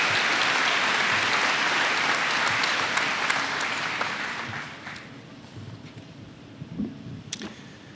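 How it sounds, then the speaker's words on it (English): Commencement audience applauding graduating students, a broad sustained wave of clapping that fades out after about five seconds, leaving quiet room noise and a few faint thumps. "Please give all of these students a collective round of applause for their achievement."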